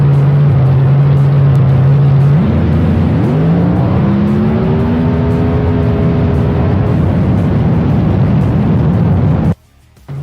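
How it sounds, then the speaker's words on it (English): A Lexus and a nitrous-fed Z28 Camaro drag race side by side, loud and close, engines droning steadily before a sharp rise in revs and rising whine as they accelerate away, then the sound cuts off abruptly near the end. "Harvey gets to the finish line first in Swanstrom's Lexus he calls Prenup, ahead of Fletcher's nitrous-fed Z28 Camaro driven by Michalak"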